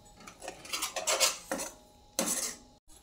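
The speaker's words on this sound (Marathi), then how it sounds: "आता काजू आणि ह्याची पेस्ट कांद्याची आपण चांगली शिजवून घ्यायची, तेल सुटेपर्यंत मिक्स करून घेऊया चांगलं।" A utensil scrapes and clatters against a pan while stirring cashew and onion paste gravy on the stove, several close, bright scraping strokes in quick bursts with brief pauses between them.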